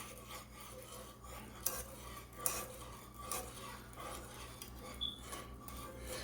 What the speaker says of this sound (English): So now I'm going to just give this a stir.